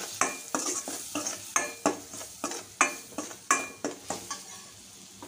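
Spices for paneer bhurji being stirred in a pan, a steady run of sharp spoon scrapes and knocks against the metal over a light sizzle, close and regular.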